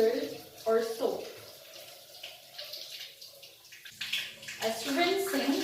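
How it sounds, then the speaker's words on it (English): Hands are rinsed under a running tap at a sink, with water splashing and gurgling close by while a person speaks over it, the flow fading slightly in the middle before picking up again. "rinsing mechanically washes away dirt and microorganisms into the sink"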